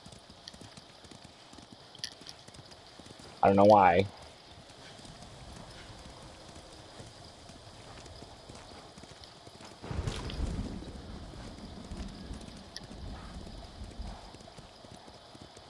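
A horse's hooves clip-clop at a steady walking rhythm while riding in the Ghost of Tsushima video game, fairly soft and continuous, with a louder burst of movement partway through and a brief spoken remark.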